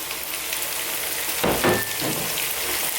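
Fresh tomatoes hit a pan of frying chicken, a steady loud sizzle with a sharp hissing surge as they go in, then settling back to an even crackle.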